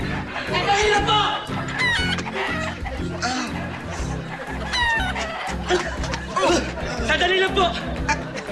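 A loose chicken clucks and squawks repeatedly and close by, amid a busy, noisy scene of several people shouting and talking excitedly over it.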